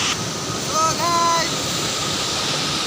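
Rushing water at the Sepli waterfall near a bridge roars as a steady, dense broadband wash, with a brief tonal whistle over it and a voice speaking during the first half.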